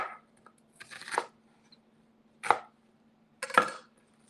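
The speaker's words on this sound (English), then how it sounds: "I'm just going to cut this into fairly large pieces." A knife cuts food into large pieces on a board, making a few separate rasping, crunchy strokes spaced apart, close and fairly quiet over a faint steady hum.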